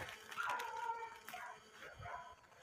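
Hunting dogs bark and yip during an armadillo hunt in the Brazilian countryside, a pack calling from some distance, faint and scattered over about three seconds.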